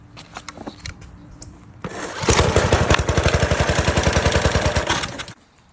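A pressure washer's small engine catches after a pull, rising into a loud, steady rapid chug for about three seconds before cutting out abruptly, with no speech.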